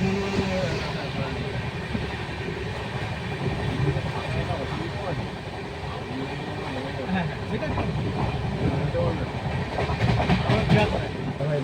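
The Jammu Tawi Express stands halted at Kamarkundu station with a steady rumble of the train, occasional clanks and station noise, and people talking over it throughout.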